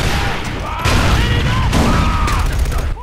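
Gunfire in the video game Far Cry 4, a loud continuous barrage of shots and booms with whistling tones over it.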